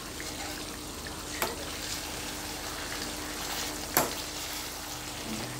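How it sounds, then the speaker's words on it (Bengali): Chicken curry with potatoes simmers in a pan, a soft continuous sizzle with two sharp spoon knocks against the pan as it is stirred, fairly quiet and close, no speech. "এখন আমি একটু নেড়ে চেড়ে দিব।"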